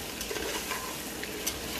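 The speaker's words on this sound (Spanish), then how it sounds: "como pueden ver, aquí estamos friendo la carne." Pork meat frying in a pan for a Cuban-style dish of cornmeal with pork, giving a steady, close crackling sizzle with small pops throughout and no talking.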